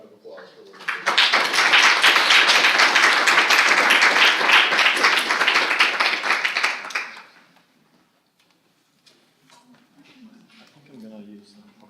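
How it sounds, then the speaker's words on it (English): A burst of audience applause at an academic lecture rises sharply, stays loud and even for about six seconds, then fades to near silence with faint murmurs and shuffling. "please join me in giving Carly another round of applause"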